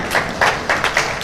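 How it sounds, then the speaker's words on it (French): A conference audience at a round-table session on digital tools for clinic management claps in a dense, steady wash with periodic swells, fairly close and filling the whole moment. "Je vous prie de les applaudir pour les accompagner."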